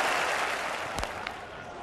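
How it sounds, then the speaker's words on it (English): A cricket stadium crowd roars in a broad, steady wash of cheering after a big shot in an England v Australia Test, with a few sharp claps or thuds breaking through. "And listen to the response of the crowd."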